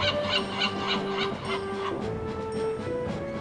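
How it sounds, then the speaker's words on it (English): Seagulls in the video game Escape From Monkey Island give repeated nasal, honking cries over a steady ambient backdrop, moderately loud and continuous, with no speech. "I can hear some seagulls"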